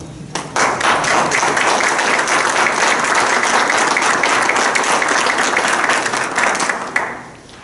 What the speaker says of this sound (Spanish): Cosa es un aplauso.